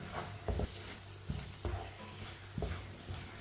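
A spoon stirs poppy seed halwa (khashkhash) frying in a pan: soft scraping strokes recur roughly every second over a steady low sizzle, close and moderately quiet, with no talking.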